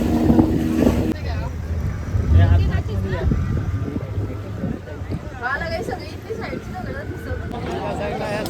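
Motorboat engine droning steadily on the ride out to Sindhudurg Fort near Malvan, with wind buffeting the microphone and people talking over the engine noise throughout.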